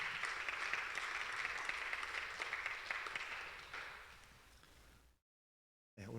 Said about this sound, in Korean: 먼저 오늘 식사를 준비해준 원팀 시즌2 목장에게 감사의 박수 드립니다